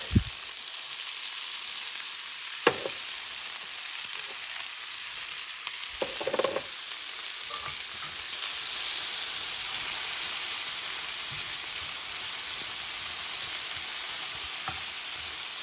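Onion and carrots sautéing in butter over medium-high heat, a steady close sizzle and hiss throughout with a few soft stirring knocks early on and no voices.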